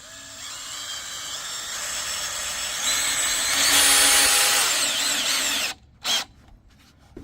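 A power drill with a 5/16 bit drives into a 4x4 heavy-duty pergola corner bracket, whining steadily and building in pitch and loudness before cutting off, followed by a brief second burst.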